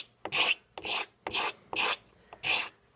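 A knife blade is drawn across a wooden gun stock to scrape off the old finish. Five loud, raspy scraping strokes come in a steady rhythm, each about a quarter second long, with short quiet gaps between them.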